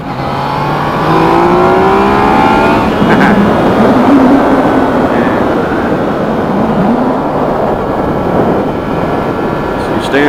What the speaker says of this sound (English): Standard mode, that was second gear, pulling pretty good.